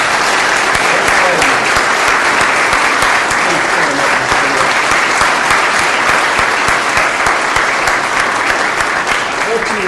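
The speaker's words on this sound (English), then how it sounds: "I would like to join in a unanimous round of applause to this lady." An audience gives a unanimous round of applause to a woman being honoured at a public gathering, a steady, loud wash of clapping that lasts the full ten seconds without a break.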